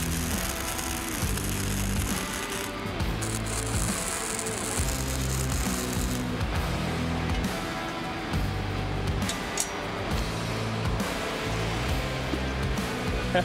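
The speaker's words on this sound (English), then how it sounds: "Let's do some welding." Welding on an overland van build, a loud steady crackling and buzzing with rhythmic pulsing bursts that runs continuously throughout.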